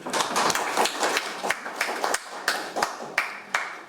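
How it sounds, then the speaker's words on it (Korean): Scattered claps from a modest seminar audience at a National Assembly policy event, a dozen or so sharp, distinct hand strikes at an uneven pace, fairly faint. "뜨거운 박수 부탁드리겠습니다"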